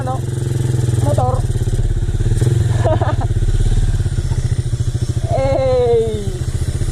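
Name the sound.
motorcycle riding past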